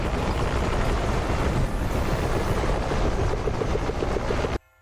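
A helicopter in a PvP combat flight game, a loud, steady rotor and engine roar that fills the clip without pause, then cuts off abruptly near the end.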